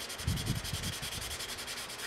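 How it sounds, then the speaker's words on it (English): Wet sanding a 1/350 scale Polar Lights Enterprise refit model kit with 600 grit sandpaper, a quiet rhythmic rasping of short back-and-forth strokes, close and soft, with no voices. "A lot of people should try wet sanding a little bit more."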